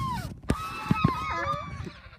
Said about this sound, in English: We have geese.